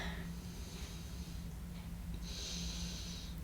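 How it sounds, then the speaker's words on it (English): Slow nasal breathing during a floor stretch, soft airy inhales and exhales through the nose, steady and close against a faint low hum. "In and out through your nose."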